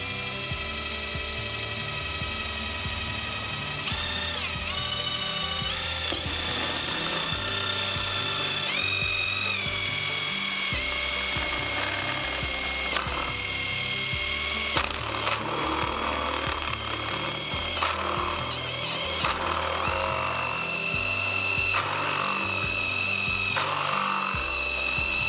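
A step drill bit grinds steadily through a watercooled PC panel, cutting holes for pass-through fittings; a continuous whirring hum with shifting pitch and occasional squeals as it bites deeper.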